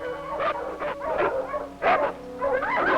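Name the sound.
sled dog team barking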